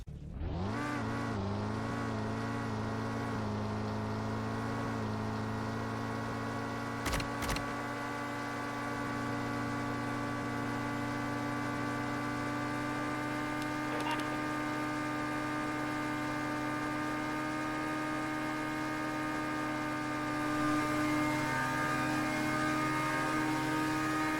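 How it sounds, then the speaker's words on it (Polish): A video game sports car engine idles with a steady, buzzing hum, briefly revving near the start, then holding a constant high-pitched drone for a long stretch. "będziecie mogli posłuchać dźwięk silnika"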